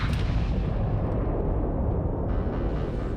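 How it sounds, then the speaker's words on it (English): A starship missile launches in the space game Starfield, heard as a dense, loud rumbling blast with a sharp burst at the start, sustained roaring thereafter, alone without voices. "How do you fire the missile?"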